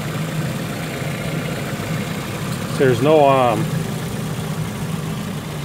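The engine of a 2007 Pontiac Vibe idles with a steady, moderately loud hum, while someone speaks briefly over it partway through.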